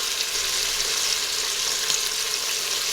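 Chicken pieces sear in the bottom of an Instant Pot, giving a steady, close, loud hiss and crackle of sizzling oil with no pauses.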